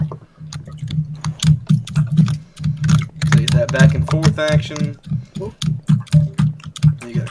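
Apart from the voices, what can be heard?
typing on a computer keyboard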